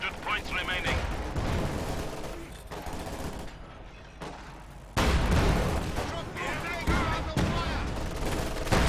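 Units in the strategy game Company of Heroes 2 fire their guns in dense volleys and bursts with booming impacts, loud and continuous beneath a commentator's voice.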